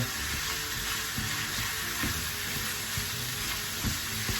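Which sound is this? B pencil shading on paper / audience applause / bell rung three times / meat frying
meat frying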